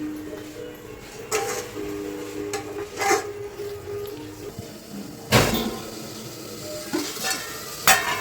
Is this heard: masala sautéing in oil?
yes